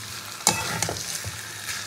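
Boiled potatoes are stir-fried in a spiced masala with Kashmiri chilli powder, giving a soft sizzle broken by a few sharp scraping stirs of a spoon against the pan.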